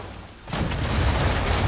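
A gunboat fires its cannon at a ship in Assassin's Creed III, a quiet lull broken by a loud, broad rumbling blast that keeps roaring and crackling to the end.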